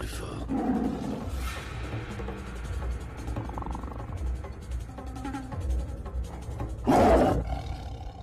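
A tiger roars loudly and close, with a deep sustained growl through the middle and a sharp renewed burst near the end, heard alone without any talking.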